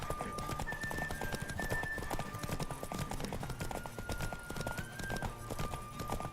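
Horse hooves galloping in the video game The Witcher 3: Wild Hunt, a fast, steady clip-clop rhythm close by, with a sustained whistling tone overhead and a low rumble beneath throughout.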